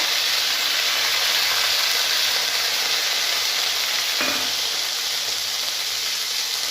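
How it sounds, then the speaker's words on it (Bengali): Ground ginger and cumin paste dropped into hot oil with fenugreek seeds, a loud steady hissing sizzle close to the pan, continuous throughout with one brief clink. "এর মধ্যে একে একে বাটা মশলাগুলো দিয়ে দেব। আদা বাটা, জিরে বাটা,"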